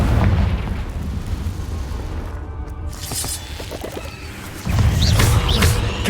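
Confringo fire-spell explosions in the PS5 game Hogwarts Legacy: loud, broadband booms and crackling bursts over a continuous rumble, with a heavier blast surging near the end.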